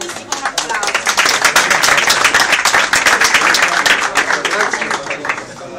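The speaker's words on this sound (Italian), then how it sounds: "dare un benvenuto ai nuovi acquisti con un applauso" Applause at a Pescara football club presentation welcoming new signings: dense, sustained clapping from a room full of people, loud and steady throughout, with no voices over it.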